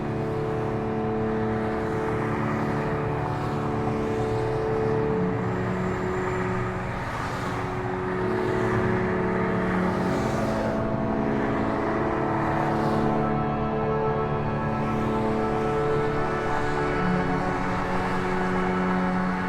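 Freeway traffic in Detroit, a constant dense roar of cars passing at a distance, steady and unbroken with slight swells, no voices.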